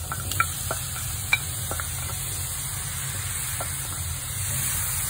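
Pork ribs frying in a pan with browned onion and garlic, a soft continuous sizzle and hiss with a few faint clinks of stirring over a steady low hum.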